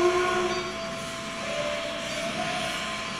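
A steam locomotive rumbles along the rails with a steady, moderately loud roll, opening with a brief tonal whistle-like note that fades into the running noise.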